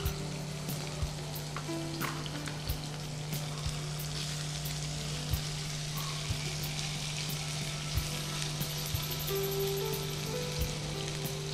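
Chicken pieces frying in hot oil with a garlic tempering, a steady loud sizzle with intermittent sharp clicks of a spoon stirring in the pan.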